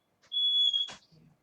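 A single piercing smoke alarm beep about half a second long, followed by a short knock or thump and a faint low murmur, with no speech.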